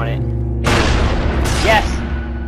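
A grenade blast in the Call of Duty Black Ops multiplayer game, a single loud close boom with a rushing burst that fades over a couple of seconds, followed by a second crackling burst.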